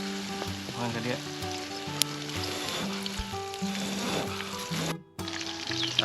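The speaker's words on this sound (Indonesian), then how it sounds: "Iya belalang goreng tuh." Grasshoppers sizzle and crackle steadily as they fry in a pan, the hiss continuous and close with a brief dropout near the end, while faint musical tones run underneath.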